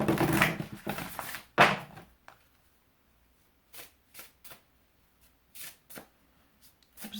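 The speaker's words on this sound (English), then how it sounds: "I want to pull another card for this one. I'm using the same deck." A deck of tarot cards is shuffled in two dense riffling bursts near the start, followed by a string of soft, brief card snaps and taps with quiet gaps between them.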